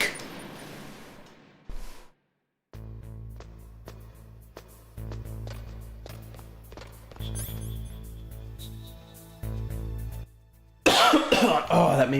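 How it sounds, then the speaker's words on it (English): A man coughs and clears his throat in short bursts while playing Metal Gear Solid, heard over the game's music and sound effects. "Oh, that made me cough doing that."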